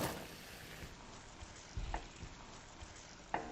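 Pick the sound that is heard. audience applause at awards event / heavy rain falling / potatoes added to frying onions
potatoes added to frying onions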